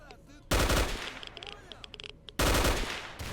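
Gunfire in the video game S.T.A.L.K.E.R. Shadow of Chernobyl: two loud bursts of rapid automatic fire with smaller shots and game effects between them.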